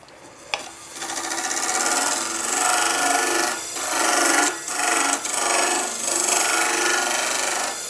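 A resin dragon's egg being sanded with a powered sander: a steady, loud, close abrasive rasping that holds nearly constant for several seconds, with a few brief dips in pressure and no talking.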